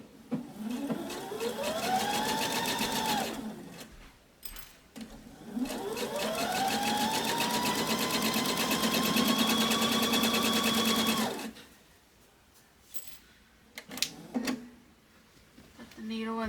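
A sewing machine stitches the side borders onto a chandelier-pattern quilt, its motor whining up in pitch, holding steady at speed through two long runs, then stopping between bursts.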